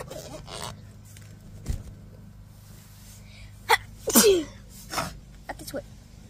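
A single sharp sneeze bursts out close by, set against a low steady hum, with brief voices before and after.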